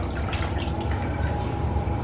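Laundry soaking in a tub of water is stirred, giving a steady wet sloshing and dripping wash that continues without pause from start to finish.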